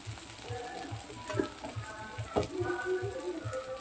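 Garlic paste fries with reddened onions and slit green chillies in a pan, giving a soft, low sizzle with a light repeating stir or tapping, fairly faint throughout.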